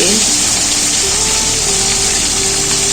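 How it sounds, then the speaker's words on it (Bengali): Tilapia pieces frying in hot oil in a pan, a loud, dense, continuous sizzle close by, steady throughout with no talking. "ওই পিঠটাও ভালো করে ভেজে নিচ্ছি।"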